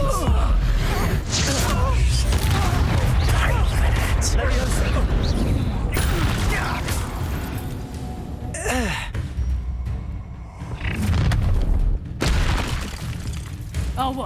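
An Expelliarmus spell lands in a duel in the video game Hogwarts Legacy, with booming magical blasts and whooshes amid dense combat effects, overlaid with shouting and dramatic voices.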